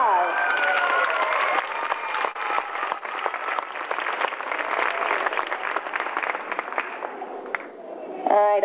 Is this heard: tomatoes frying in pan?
no